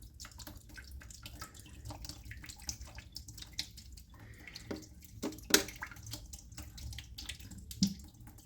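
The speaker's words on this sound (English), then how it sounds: "we're probably gonna have some nasty water coming out here" Dirty water trickles and splashes steadily from a 3-inch wye pipe strainer, with a few louder drips and splats, fairly close, no voices.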